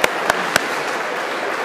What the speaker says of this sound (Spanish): Un aplauso para los jóvenes